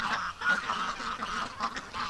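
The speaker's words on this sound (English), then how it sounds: "there's a lot of good looking ducks" Many ducks call in a wet backyard and along a creek in winter, a dense, continuous chorus of overlapping quacks and honks at moderate distance, with no speech.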